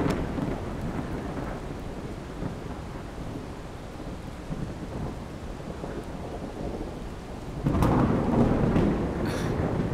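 Steady rain falls outdoors with rumbling thunder, a heavier roll swelling near the end; continuous and fairly loud, with no voices.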